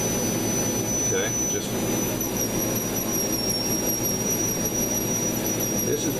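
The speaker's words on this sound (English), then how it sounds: "So you kind of choose the size carbide to do stippling that works for you." A rotary carbide bit stippling a carved wooden gunstock gives a steady high-pitched whine with a constant grinding hiss underneath. It runs close and unbroken throughout, without talk.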